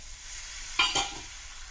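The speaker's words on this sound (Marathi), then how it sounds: "याला परत परतवून घेऊ" Potato and cauliflower stir-fried in oil with toasted flour, a soft sizzle broken by two quick spatula scrapes in the pan, close and fairly quiet.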